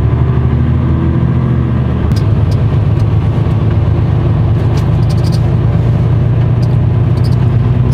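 A car driving on a road heading toward the B6 highway, a steady low engine hum and tire rumble heard from inside the cabin, with a slight shift in tone partway through and no talk.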